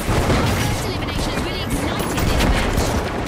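Dense rapid bursts of pyro grenade blasts and gunfire crackle continuously in the video game The Finals, loud and chaotic, with a voice talking faintly underneath.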